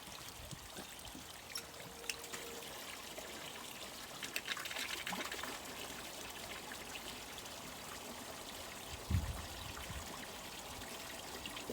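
Water from a hose running into a pressurised pond filter, a steady faint trickling and splashing flow that continues unbroken, with no talk.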